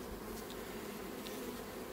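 Honeybees at a hive during a queen introduction make a steady, faint, dense hum that continues unbroken, with a few brief brighter buzzes from individual bees.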